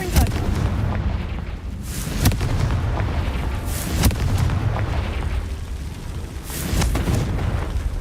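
The Confringo explosion spell in Hogwarts Legacy goes off as a series of loud, sharp booms at irregular intervals over a dense, rumbling game background.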